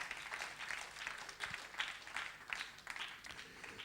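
Congregational applause at a church worship gathering, a steady, fairly distant wash of many hands clapping with a few louder claps standing out.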